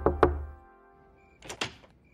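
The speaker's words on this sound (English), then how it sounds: "Must have been some kids knocking." Someone knocks on a door in a cartoon, two firm raps, a pause, then two more hollow knocks, close and distinct with nothing else heard.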